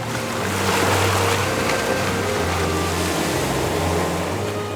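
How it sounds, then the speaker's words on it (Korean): Steady surf washes over the pebble beach of Cala Paura in Polignano a Mare, Puglia, Italy, a continuous rushing hiss with gentle rolling swells and a faint wind in the background, no voices. "파도와 자갈이 부딪히는 소리가 여유롭고 한가롭다"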